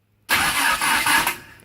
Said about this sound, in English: Don't just hit the starter.